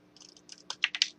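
Fine scissors snip through white card paper in a quick series of small, crisp cuts, growing a little louder toward the end, with no talking.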